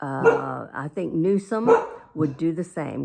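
A pet dog barks and yips indoors in several loud bursts, close by, mixed with someone talking continuously over and between them.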